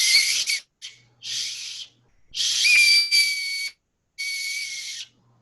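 Shrill whistle blown through an acorn cap held between the thumbs outdoors, sounding in four loud bursts of breathy hiss with a piercing steady tone, separated by short pauses.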